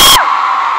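A concert crowd in Manila cheers in a brief, loud burst of screaming and whooping that carries on as a sustained, high-pitched roar.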